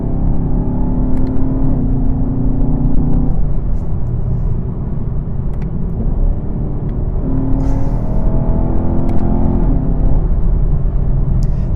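A 2016 Chevrolet Camaro 1SS accelerates hard after a downshift of a couple of gears, its loud engine roar holding and climbing through the revs for several seconds.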